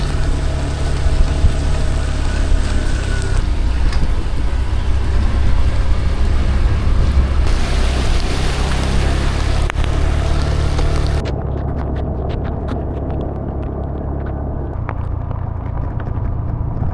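Heavy rain during a motorbike ride in Sagada, a dense continuous hiss mixed with low engine and wind rumble, steady and loud throughout before easing slightly near the end.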